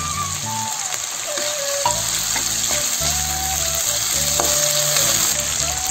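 Chopped tomato frying in mustard oil in a wok after ginger-cumin paste, a steady loud sizzle throughout with occasional utensil scrapes, no voices.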